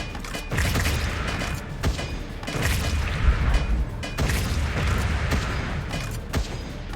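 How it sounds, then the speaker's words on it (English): Bombs go off in the video game Wall World, a series of deep booming thuds spaced a second or so apart, heavy and fairly loud over a rumbling background. "Bombs."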